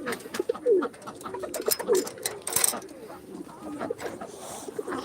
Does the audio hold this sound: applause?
no